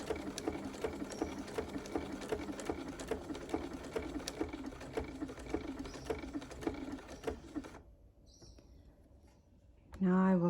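A sewing machine stitches a buttonhole using a manual buttonhole foot, a fast regular mechanical patter up close that stops near the end, followed by a brief louder noise.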